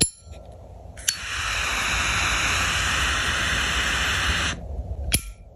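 Card V3 lighter firing with a steady, loud hissing roar of gas that holds for about three and a half seconds, framed by sharp clicks of ignition before and after.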